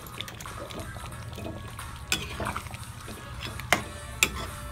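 Aloo mutton curry with chopped coriander being stirred in a metal pot gives soft wet squelching and scraping, with a few sharp clinks of a spoon against the pan.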